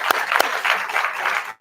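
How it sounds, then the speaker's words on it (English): Applause from an audience at a forum, a dense steady wash of many hands clapping with a couple of sharper claps standing out, ending abruptly. "let's give them a round of applause, please"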